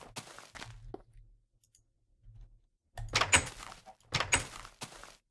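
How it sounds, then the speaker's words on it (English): Wooden doors in Minecraft opening and closing, heard as sharp clacks and thunks. A short cluster comes first, then a quiet gap, then a denser run of clicks, all close and with no talking. "the door sounds are weird now"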